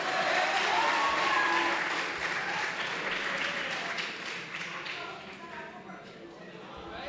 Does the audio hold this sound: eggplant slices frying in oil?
no